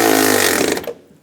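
A power tool rapidly rattles bolts tight on the lower radiator fan shroud of a 1999-2006 Chevrolet Silverado 1500, a brief buzzing chatter lasting under a second before cutting off abruptly.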